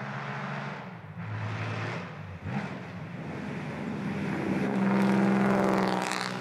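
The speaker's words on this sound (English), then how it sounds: "the new 328 Kamm Coupe rolls out of the hall and takes its first steps" A BMW 328 Kamm Coupe classic car rolls out of a hall, its engine note building from a low rumble to a louder steady drone that swells toward the end, with no talking.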